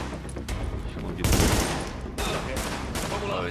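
Enemy gunfire in The Division: loud rapid bursts of automatic fire crackle in repeated volleys, with one especially dense burst midway, close and harsh.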